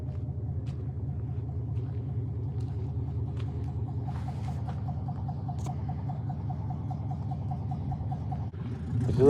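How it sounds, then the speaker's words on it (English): A race car's exhaust pipes rumble at a steady idle close by, a deep, continuous, lumpy pulsing throb that holds even for about nine seconds before swelling louder at the very end. "If you listen to them pipes"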